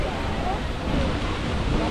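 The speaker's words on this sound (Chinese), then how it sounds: "好大风哦！" Strong wind sweeping across the summit of Gunung Berembun, a continuous close roar buffeting the microphone with no break.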